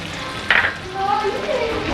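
A soft burst of sizzling as about two tablespoons of ginger garlic paste drop into hot oil, with a brief clatter, then steady frying continues.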